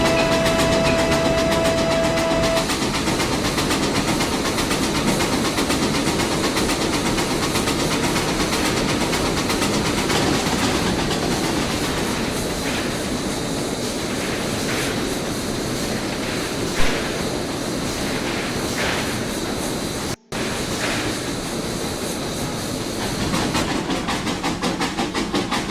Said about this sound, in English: The train continued on to the village station with its Christmas passenger train